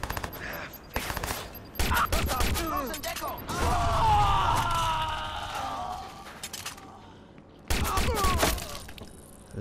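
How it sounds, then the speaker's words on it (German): Gunfire in the video game Watch Dogs: repeated sharp shots and bursts of automatic fire in quick, uneven clusters, loud and close, with in-game voices shouting and talking between and under the shots. "Ich komme einfach nicht ums Schießen herum."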